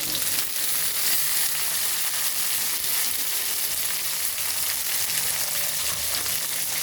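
Onion, garlic and tomato frying in a pan for mavaththal kulambu, a steady dense sizzle running close and unbroken with no voices.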